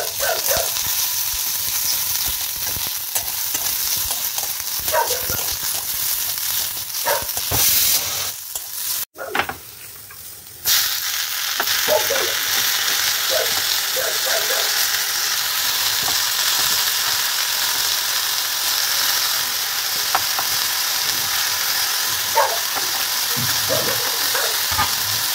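Food sizzles and fries in a hot wok, a continuous loud crackling hiss broken by stirring scrapes and a brief dip, with no talking.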